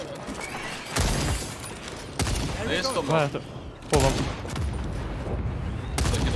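Minigun fire in the video game Second Extinction, loud sustained bursts of rapid gunfire broken by short pauses, with players talking excitedly over the shooting.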